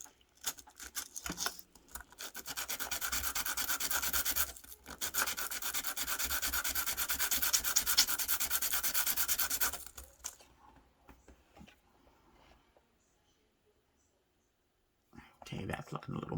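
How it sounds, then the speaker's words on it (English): Sanding a plastic part for an AMT 1968 Corvair scale model car, a steady close scratchy rubbing in two long passes, then quiet and a brief bit of handling at the end. "let's sand this down a little more so we can get it to match the other one."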